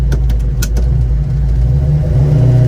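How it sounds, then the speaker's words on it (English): A restored 1969 Chevrolet Chevelle launches hard from a stoplight in Mexico, its deep, loud engine roaring and revving close by in a traction-limited start, with no voices. "See how it does from a stoplight."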